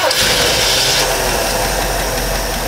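Engine fired by a CDI box on a points distributor, heard as a loud, close, steady running roar right after it catches, with no pauses.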